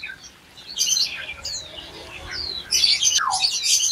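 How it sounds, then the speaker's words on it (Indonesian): A female kinoi bird in a bird shop gives bright chirps and squawky calls, several short bursts close by against a quiet background. "Dan berikutnya ada burung kinoi betina."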